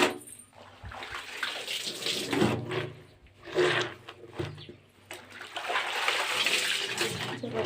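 Wet clothes dropped and pushed into a bucket of water, giving repeated splashing and sloshing bursts with quieter gaps between them, close and fairly loud, with no talking.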